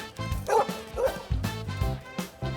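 A dog at a children's birthday party barks in a quick run of sharp yips and bow-wows, loud and close, with short whimpering notes between the barks.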